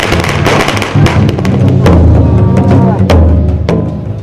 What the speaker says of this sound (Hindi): पटाखे फूटे,